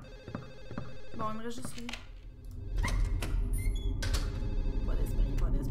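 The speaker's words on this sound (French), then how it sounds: "C'est impossible qu'on entende le téléphone partout comme ça, pareil." An old-style telephone bell rings in the horror game Silent Hill 4, repeated ringing bursts heard beside someone talking and game ambience with clattering noises.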